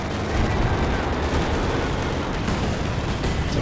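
Howitzer barrage in the Company of Heroes 2 strategy game: a dense, continuous rumble of artillery fire and explosions, loud and low-heavy, rolling without clear gaps.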